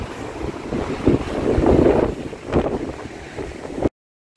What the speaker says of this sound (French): le vent était fortement de retour